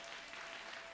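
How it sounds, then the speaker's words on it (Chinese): Dense, continuous applause from a church congregation fills the space, a steady wash of many hands clapping without distinct individual claps, fairly faint and heard alone. "我们拍手来恭喜他们"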